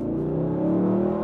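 A Maserati engine revs steadily and loudly, its harmonic drone rising slightly in pitch under throttle, close and continuous with no voices.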